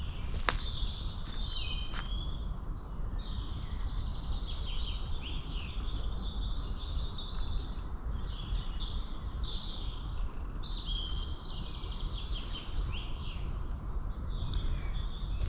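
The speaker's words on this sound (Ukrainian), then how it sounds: "Пташечки співають. Послухайте." Many birds chirp and sing steadily in a Carpathian forest, their varied calls close and continuous above soft, low footsteps on the forest floor.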